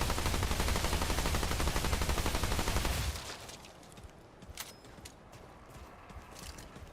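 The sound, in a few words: SMG gunfire in the video game Remnant 2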